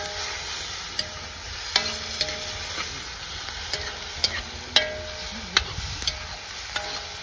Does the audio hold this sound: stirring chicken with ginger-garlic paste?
yes